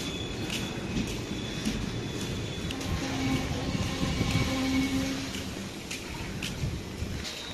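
A train at a railway station in Thrissur rumbles steadily through a busy platform, with a faint squeal of wheels and a rising rail hum in the middle, heard close and continuous without clear talk.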